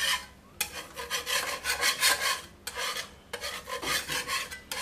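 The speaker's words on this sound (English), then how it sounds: "Removing dirt and grease is as simple as scraping down." A metal scraper rasps grease and dirt across an aluminium contact grill plate in long, repeated strokes, loud and close with brief pauses between passes, no talking.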